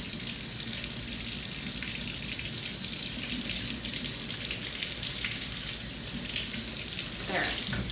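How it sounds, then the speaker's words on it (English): Warm tap water gushes steadily into a sink over a tight jar lid, a constant close hiss and splash with a brief louder splatter near the end. "So if I ran it under warm water"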